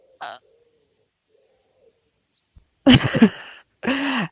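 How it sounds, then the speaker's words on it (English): A bird calls in Sweden, with a brief note at the start and two louder, fuller calls near the end, close and clear against near silence. "Can you guys hear that? Oh, it's that thing. It's that bird."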